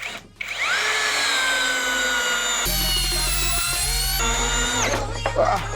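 ELTOS cordless screwdriver driving a 200 mm screw, its motor whining at a high steady pitch under strain, with a shift in tone partway as the load changes and a short stop near the end.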